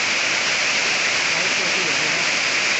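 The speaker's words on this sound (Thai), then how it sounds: "ตอนนี้น้ำไหล" A creek runs full with water after overnight rain, a loud, dense, unbroken rushing hiss heard up close.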